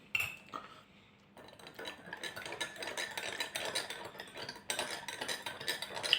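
A metal spoon clinks and scrapes against a cup while two spoons of sugar go in, a run of quiet close chinks and stirring rattles, no talking.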